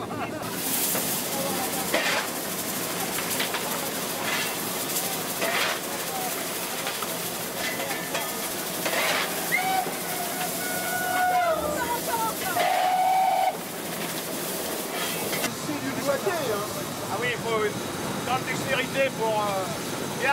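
An SNCF 141 R steam locomotive hisses steadily with jets of steam, while brief whistle-like tones and people talking can be heard in the background.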